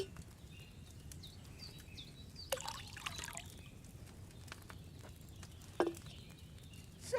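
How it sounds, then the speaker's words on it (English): Wine poured from a pitcher into a cauldron in the game Kingdom Come: Deliverance 2, a brief liquid splash and trickle over a quiet ambient background with faint birdsong and a few small clicks. "So, what did you pour in there? Wine, of course."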